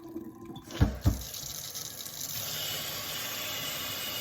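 Plain tap water runs from a kitchen faucet fitted with a Brita faucet-mount filter, starting after a couple of soft knocks and settling into a steady, close rush.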